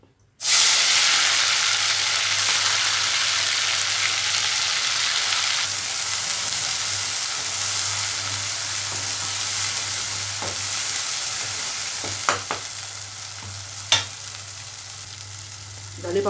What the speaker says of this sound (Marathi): आता गरम तेलामध्ये वाटलेला मसाला घालू